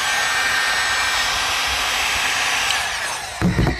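A heat gun heats the foam tabs on a boffer long sword, blowing a loud steady hiss and whine for about three seconds before shutting off, followed by a few close handling knocks.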